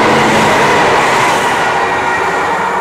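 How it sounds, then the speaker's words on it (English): Fast train rushing through a West Ealing station platform, a loud, steady broadband roar of wheels and rail noise sustained throughout without voices. "There is a fast train coming through as well."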